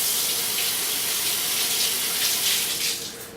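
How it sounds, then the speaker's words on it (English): Hands washed under a running kitchen tap, a steady close gush of water splashing into a sink, loud and continuous, easing slightly at the end, with no voices. "I really feel this overriding need to wash my hands"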